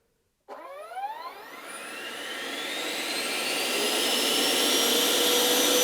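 An FMS F-16 64mm electric ducted fan jet spools up from silence indoors into a loud, steadily rising whine that holds near 80–85% thrust.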